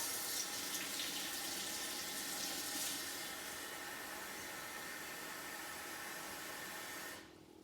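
Warm water runs steadily from a tap in a continuous broadband hiss, then cuts off abruptly near the end.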